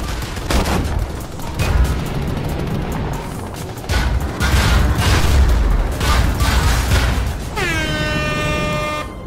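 Loud weapon fire from a powerful gun in the game Planetside 2 rings out in dense, repeated bursts and booms, ending with a sustained blaring horn-like tone.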